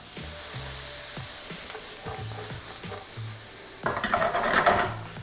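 Onions cook slowly in oil in a pan for an Italian-style chicken dish, a soft low sizzle under scattered clinks and scrapes of a utensil, then a brief louder burst of sizzling near the end.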